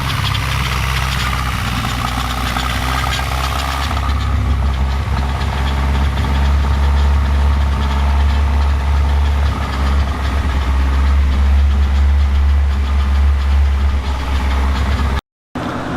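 A Corvette C7 V8 with a new camshaft, long-tube headers, torque converter and tune idles close by with a loud, lumpy, rhythmic rumble that holds steady throughout, with no talk.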